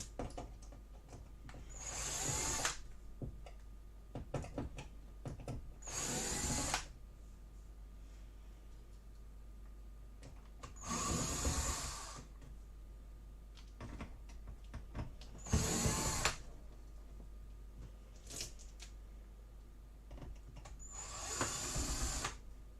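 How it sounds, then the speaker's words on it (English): Screws backed out of a TV's rear panel with a power driver, heard as five separate whirring bursts of a couple of seconds each with small clicks and handling noises between them, close and fairly quiet, with no talking. "okay, so all the screws are undone on top and sides."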